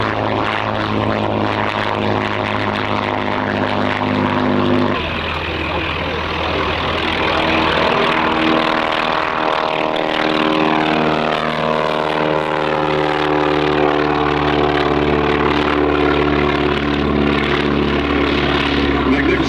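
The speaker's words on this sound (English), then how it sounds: "And there goes the Hind, the Hawker Hind." A Hawker Hind biplane with a propeller engine flies past at an airshow, a loud, steady droning engine roar with a shifting pitch as it passes by.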